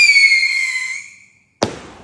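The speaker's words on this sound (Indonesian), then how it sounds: "sekarang giliran ayang aku, guys, pengen nyalain kembang api yang satunya lagi" A firework whistles shrilly in a falling tone for over a second, fades to silence, then ends in a single sharp crackling pop close by.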